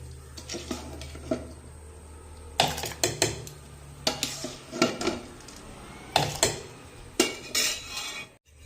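A metal spoon scrapes and knocks against a pot of boiling water as rice is stirred in, irregular bursts, close up, with a quiet background hum and no talking.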